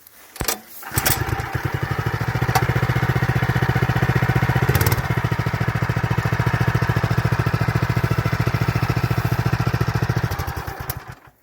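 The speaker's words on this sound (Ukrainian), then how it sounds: "Заводиться обичною ручкою заводною можу продемонструвати" A Gopak military off-road motorcycle engine is hand-cranked and catches, then runs at a steady, rapid idle chug close by for about ten seconds before cutting off, with a brief clatter midway.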